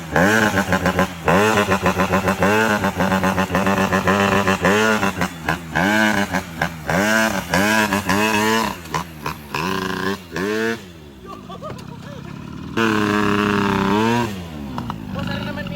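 A Honda Dio scooter engine revs hard and repeatedly, close and loud, in rising and falling bursts with a brief dip near the end before the revving resumes, and people talk over it.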